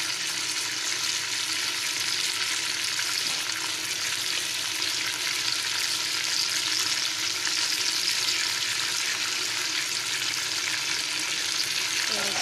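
Chopped tomatoes frying in a pan for chicken machbos, a steady, close hiss of sizzling oil with faint stirring scrapes, unbroken and even throughout.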